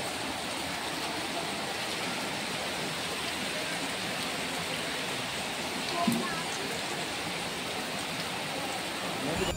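Heavy rain pours steadily over a Nashik market street in the evening, a dense, constant wash of hiss with a brief louder splash or knock near the middle.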